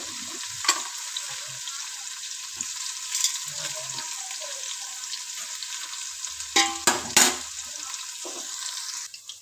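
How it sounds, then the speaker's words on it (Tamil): Onions with salt frying in oil for biryani, a steady close sizzle running throughout, with scattered scrapes and clanks of stirring in the pan and a louder burst of stirring near the end, no one speaking. "வெங்காயம் இப்போ நல்லா வதங்கட்டும்"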